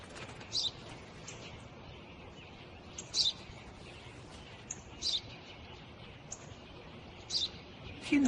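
Brief, high house sparrow chirps repeat every second or two, quiet and set against a constant low hiss, with a louder sound at the very end.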